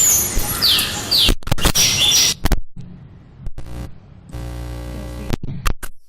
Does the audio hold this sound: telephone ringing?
no